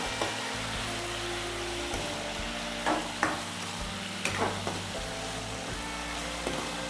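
Taro leaf mixture is stirred in a pan with a soft scraping, sizzling texture and occasional sharper knocks of the spoon against the pan, fairly quiet and steady with a low background hum.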